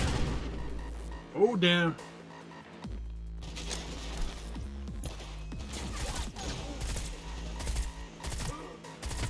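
Gunfire in Cyberpunk 2077, scattered shots and bursts rattling through a busy game soundscape, mixed with a short spoken exclamation and other voices.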